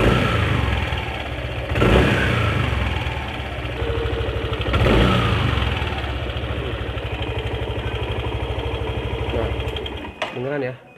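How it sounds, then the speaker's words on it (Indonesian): A Yamaha NMAX scooter engine runs close and steady with a couple of brief revs, then the throttle drops off near the end and a short sharp knock sounds as the idle sputters down. "pas ketika turun gas dia ada bunyi plek"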